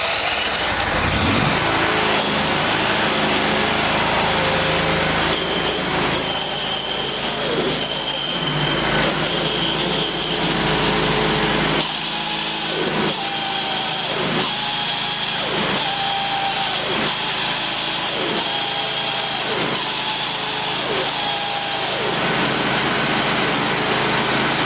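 Noisy stamped-steel transmission pulley on a Simplicity Broadmoor lawn tractor, giving a loud, continuous metallic squeal and grinding with a steady pulsing rhythm in the second half, close by with no talking.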